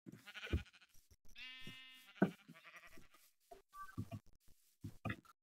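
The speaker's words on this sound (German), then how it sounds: "Hier sind jetzt wieder Schafe." Sheep in the Minecraft video game bleating in short separate calls, one longer wavering bleat near the middle among quieter rustles and thumps, close and clear with no talk.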